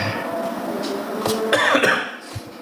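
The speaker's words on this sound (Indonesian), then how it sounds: "ini aku lagi agak batuk sih" A single person coughs a couple of times at close range, short throaty bursts in a quiet indoor setting with no talk.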